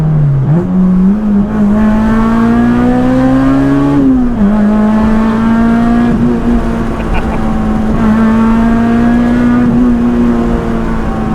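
A Honda Integra Type R DC5 engine drones steadily from inside the cabin, with a quick gear change early on and another dip a few seconds later, then holds a loud, even pitch.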